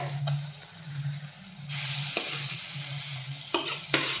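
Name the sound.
stir-frying mashed eggplant with red chilli powder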